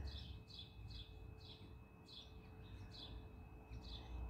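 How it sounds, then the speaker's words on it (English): Birds chirp in short, regular bursts, about two calls a second, faint and at a distance over a low outdoor hum. "you can hear the birds."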